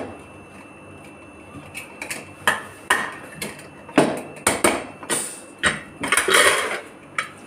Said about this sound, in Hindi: मिट्टी वगैरह डाल के अच्छे से बारीक काटती हूँ मैं